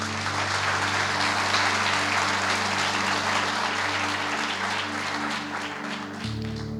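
A church congregation applauds during a service, dense sustained clapping that fills the space evenly for several seconds before easing slightly at the end.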